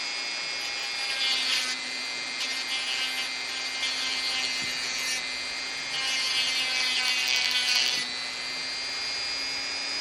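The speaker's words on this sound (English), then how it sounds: "You can use a little sanding tool" A small rotary sanding tool grinds steadily up close on a miniature, its pitch surging and easing as it presses against the material, with no talking.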